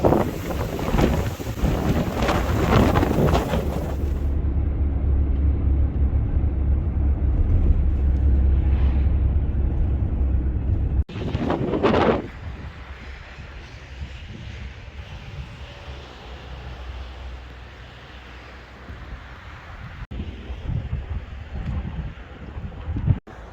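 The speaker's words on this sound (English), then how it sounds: "Look at the wind." Strong wind buffets the microphone on the Kotor Bay coast, a loud roaring rush for the first several seconds, then another heavy gust around the middle before easing into a lower, steady blowing with no talk.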